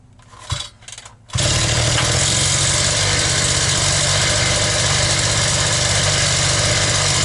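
A petrol brush cutter, Alpina ABR 42 D fitted with a Chinese replacement cylinder, starts after a few brief pulls and settles into a loud, steady, high-pitched two-stroke running note that holds alone.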